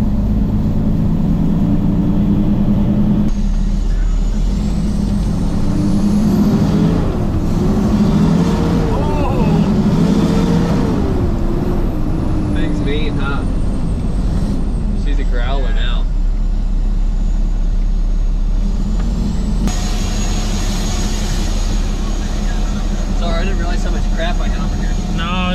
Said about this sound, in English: that exhaust sounds so sick